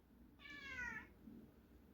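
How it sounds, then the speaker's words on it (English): A cat by a canal gives a single drawn-out meow, fairly faint and a little distant, over a low outdoor background rumble. "Oh, there's a cat."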